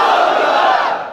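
A large crowd at an Islamic waz sermon gathering in Feni, Bangladesh roars a loud, sustained takbir chant in unison, a dense wall of voices holding steady for about a second before fading slightly.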